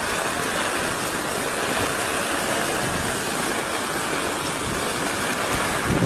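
Water overflowing through a culvert, a steady broadband rushing roar that stays loud and unbroken throughout, with no voices over it.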